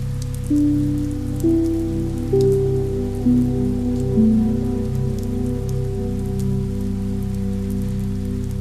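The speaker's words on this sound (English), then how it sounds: "The rain outside shows no signs of stopping" Steady rain falls outside, a continuous soft hiss of drops layered under low sustained musical tones at a calm, even level.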